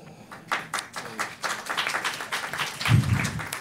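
Audience clapping at a panel discussion, building from a few scattered claps into a denser round of applause, moderately loud with a low thump near the end.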